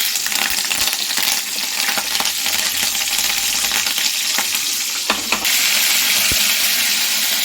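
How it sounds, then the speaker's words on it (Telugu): Curry leaves crackle and sizzle in hot oil in a pan for cabbage curry, a loud, dense frying hiss with sharp pops and a brief clink of a utensil. "ఆయిల్ హీట్ అయిపోయింది. ఫస్ట్ కరివేపాకు యాడ్ చేద్దాం."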